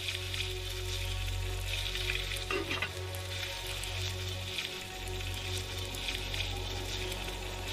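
Meat frying in the mobile survival game Day R Survival, a steady close sizzle and crackle with a constant low hum beneath, no one speaking.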